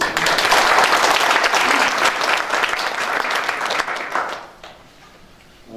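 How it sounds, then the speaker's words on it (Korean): Large audience at a Korean education policy forum on history textbooks breaks into sustained loud applause, steady for about four seconds before fading away. "다 함께 자주하는 의미로 큰 박수 부탁드리겠습니다"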